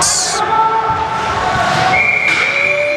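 A referee's whistle in a college ice hockey game, CSUN versus LMU: two shrill blasts, a short one at the start and a longer steady one later, over arena crowd noise.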